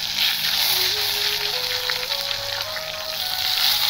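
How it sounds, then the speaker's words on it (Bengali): Sliced eggplants with their stems left on frying in hot oil for a vegetarian curd-eggplant dish, giving a steady, close, continuous sizzle and crackle with no talking. "আমার তেলটা গরম হয়ে গেছে, এবার বেগুনগুলো আমি দিয়ে এক এক করে ভেজে নেব"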